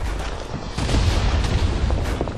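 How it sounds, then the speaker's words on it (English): A grenade detonating in the World War I shooter Verdun, a heavy, rumbling boom with a dense roar that stays loud and sustained, with no voices. "Grenade out right away."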